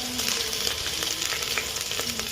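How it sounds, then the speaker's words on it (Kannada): Bay leaf and curry leaves spluttering in hot oil for a vegetable pulao, a steady close sizzle of frying with scattered small pops and crackles throughout. "ಆಮೇಲೆ ಪಲಾವ್ ಎಲೆ, ಆಮೇಲೆ ಕರಿಬೇವು, ಹಾಕಿದೆ. ಅದು ಸ್ವಲ್ಪ ಸಿಡಿದ ಮೇಲೆ"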